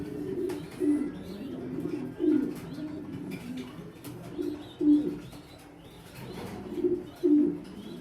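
Pigeons in a loft coo in low, throaty, rolling calls that swell and fade at intervals over a soft background, with a few faint chirps in between and no speech.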